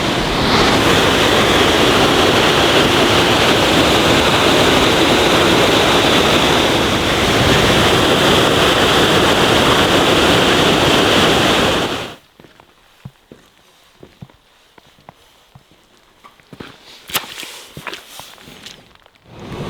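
Loud, steady roar of a waterfall in Iceland, a broad continuous rush of falling water for about twelve seconds, then cutting away to quiet wind and scattered rustles and footsteps.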